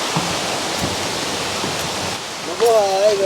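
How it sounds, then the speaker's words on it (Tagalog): A multi-tiered waterfall at a popular tourist spot in the Philippines, seen from a bridge, gives a steady, close broadband rush of falling water that fills the whole clip, with faint tonal voices rising over it near the end. "dito pa lang makikita na natin sa tulay yung layer by layer na falls na nandito"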